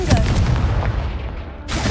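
Confringo fire spell blast in Hogwarts Legacy: a loud booming explosion that bursts at the start and rumbles away, followed by a second sharp blast right at the end.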